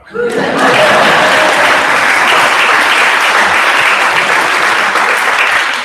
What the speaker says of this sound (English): Yeah, go ahead, clap.